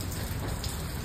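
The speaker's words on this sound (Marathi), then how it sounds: "पाऊस आज जाम आहे." Heavy rain falls steadily in a dense, even hiss, close and constant across the short moment.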